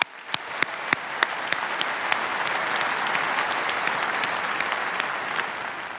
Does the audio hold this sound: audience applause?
yes